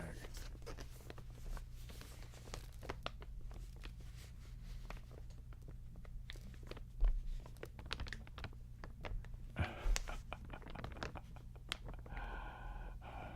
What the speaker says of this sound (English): Let's move to the large crinkling bag.